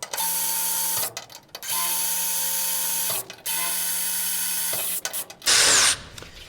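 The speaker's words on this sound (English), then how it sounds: "I'm going to drill these three" A power drill whines in three long, steady bursts separated by short pauses, close and loud, followed by a brief harsh scraping burst, drilling holes for a strut on a Zenith CH 750 CruZer aircraft build.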